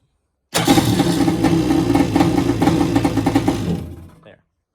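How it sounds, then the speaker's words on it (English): A round nose Superjet jet ski engine runs on a high idle after its first start, a steady, loud mechanical drone that holds for several seconds and then cuts off. "Yep, idle's still a little high."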